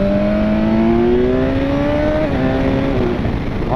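A BMW S1000XR motorcycle engine revs up through rising gears in road mode, pitch climbing then dropping at shifts, loud and close over steady wind rush.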